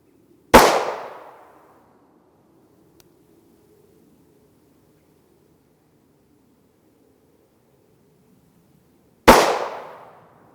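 Two sharp 5.7x28mm pistol shots from a PSA Rock with a 5.2 inch barrel, loud and close, spaced about nine seconds apart, each with a quick decaying echo over quiet outdoor background.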